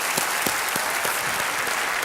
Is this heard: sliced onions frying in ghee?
no